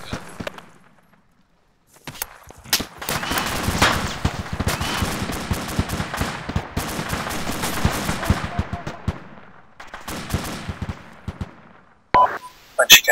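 Rapid bursts of gunfire crackle close and loud during a base defense battle, with dense automatic volleys over several seconds, a brief pause, then more sharp shots near the end, with some voices mixed in.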